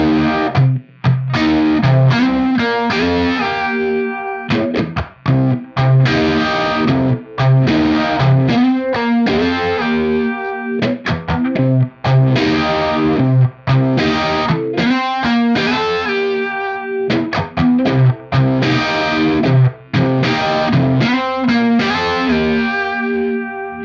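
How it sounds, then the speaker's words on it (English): Distorted electric guitar through a Univibe effect, played into a UAFX Lion '68 Super Lead amp, with a swirling, pulsing modulation, played continuously in chords and riffs, loud and close with no talking. "Let's try this with the Univibe here."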